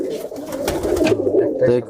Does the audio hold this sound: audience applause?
no